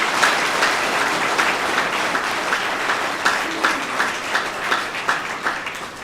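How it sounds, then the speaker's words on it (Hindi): An audience at a Bahujan Republican Socialist Party gathering breaks into sustained, dense clapping that rolls on evenly for several seconds, loud and close with no voices over it. "जोरदार तालियां बजाओ उन सभी के"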